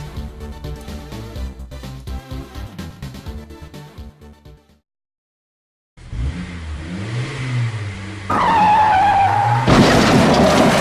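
Cars race and skid in a wonky-physics car-brawling game, with loud revving engines and screeching tyres, a short silent gap, then sustained engine roar and squealing skids building toward the end.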